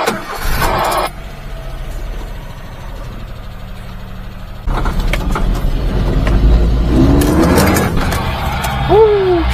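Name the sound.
mini-truck burning a tire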